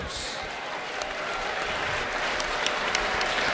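Steady, dense applause from a large crowd at a Golden Gloves boxing event, sustained clapping without a break throughout.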